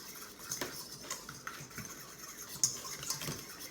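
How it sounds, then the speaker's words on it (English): Burger mixture with ketchup, Worcestershire sauce, oat flour and milk being stirred in a bowl: soft wet squelching and scraping strokes with a few light clinks of utensil against the dish, close up. "I'm just gonna mix all of this up"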